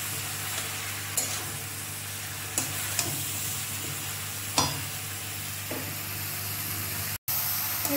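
Jackfruit and prawn curry being sautéed in a pan, a constant sizzle broken by several scraping stirs and spatula knocks, close and alone without talk.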